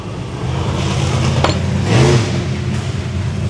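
A demolition derby car's engine fires up and revs once in a short burst at close range, then settles back to a rough idle.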